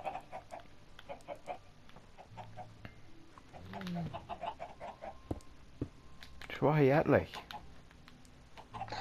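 Chickens clucking in Minecraft, several short clucks and a louder squawking burst, heard under casual conversation between players.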